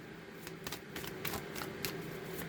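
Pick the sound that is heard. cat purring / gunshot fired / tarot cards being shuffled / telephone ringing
tarot cards being shuffled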